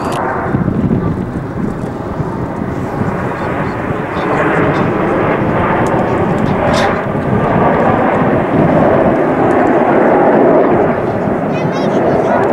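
Hawker Hunter jets flying as a formation, diving vertically during an air display, give a loud, continuous broadband roar that swells and holds steady throughout, mixed with wind buffeting on the microphone.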